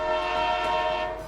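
A train in a video game passes with a sustained, loud, droning horn held on one tone, fading slightly at the end.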